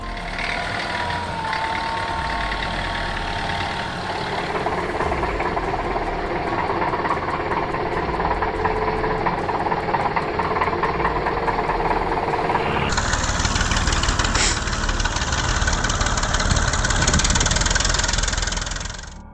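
A tractor with one wheel gone, still driven along on its remaining three, its engine running loud and steady throughout and growing harsher and more forceful in the final seconds.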